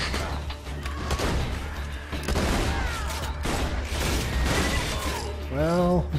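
Distant explosions and gunfire crackle through a Borderlands 2 firefight, with sharp broadband blasts and debris-like shatters stacking over a constant rumbling bed of game noise.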